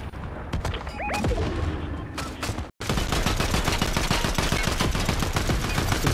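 Rapid automatic gunfire in Fortnite, loud and sustained bursts of shots that run almost continuously after a brief break, with a few short game beeps early on.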